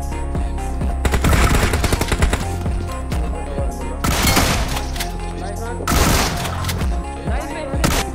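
Sustained automatic gunfire from the battle royale game BGMI during a competitive match, loud dense bursts and rapid volleys throughout with heavy low thumps, no speech over it.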